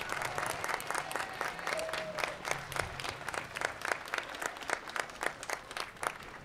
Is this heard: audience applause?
yes